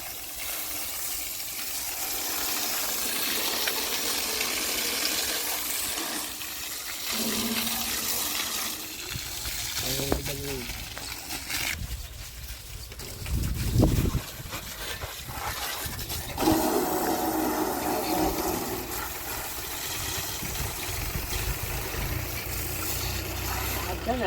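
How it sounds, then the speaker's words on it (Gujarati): A pressure washer sprays water at a service station, a steady broad rushing hiss that runs the whole time with brief surges, while a person talks now and then over it. "બધા સાધનની સર્વિસ કરી નાખી પાણીનો પ્રેશર જઈ લાગે ઘટે જ નહીં"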